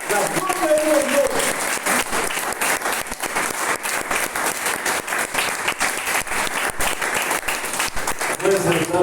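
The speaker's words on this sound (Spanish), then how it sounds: "¡Te un aplauso fuerte, Señor!" A church congregation applauds loudly and steadily for the Lord throughout, dense clapping with a few voices rising over it near the start and end.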